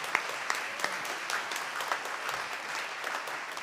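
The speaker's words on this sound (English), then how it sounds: "We all ought to give the Lord a hand clap of praise," A congregation claps in praise at a memorial service in a church, a steady dense patter of many hands with a few sharper claps standing out, sustained and fairly close with no talking over it.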